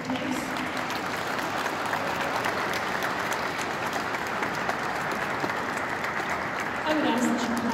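Sustained audience applause at a school contest awards ceremony, a dense steady patter of many hands filling the room, with a voice briefly over it near the end.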